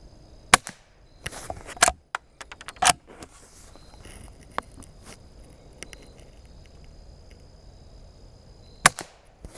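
Shots from a Rossi Rio Bravo lever action rifle crack out sharply, a few quick reports early on and another near the end, with light clatter and handling noise between them.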